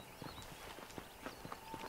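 Horse hooves from a Red Dead Redemption ride, a steady clip-clop of walking steps with soft regular thuds over a low background bed, no voices.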